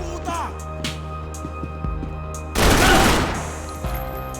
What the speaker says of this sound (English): Quería una balacera bien chévere